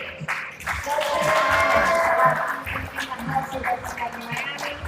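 Audience applause at a sustainable cocktail competition final in Miami, a sustained burst of clapping and crowd noise that swells then thins, with some voices mixed in.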